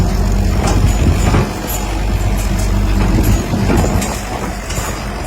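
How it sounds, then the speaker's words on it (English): A farm wagon ride: a steady, loud low rumble of the moving vehicle, with faint rattles and knocks throughout and no voices. "Let's get on the wagon and go for a ride"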